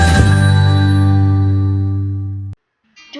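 A notification bell sound effect: a single bright chime struck at the start and left to ring out and decay, cut off sharply, followed by a brief high electronic blip.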